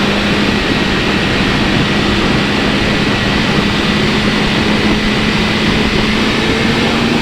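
A BMW S1000RR motorcycle on its stock exhaust rides through a tunnel, its engine giving a loud, unbroken drone with a steady low hum and heavy rushing noise throughout, with no talk.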